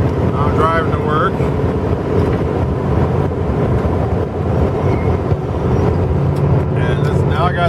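Interior road noise inside a 1995 Dodge Dakota pickup driving to work on gasoline with the windows up: a loud, steady low rumble and hiss of tires and engine, with someone talking over it.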